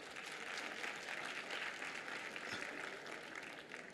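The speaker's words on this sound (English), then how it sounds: "Can we just give him a hand of applause?" Applause from an audience at a business competition event for a Philips Southern Africa CFO, a continuous wash of many hands clapping, fairly faint and even throughout.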